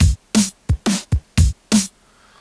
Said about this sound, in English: just got the two kicks and the two snare drums